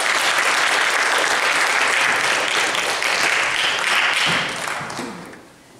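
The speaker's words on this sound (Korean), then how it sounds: "네, 박수로 맞이해 주세요." Loud, dense applause from an audience welcoming a pastor to sing at a church gathering, sustained evenly and then tapering off in the last second.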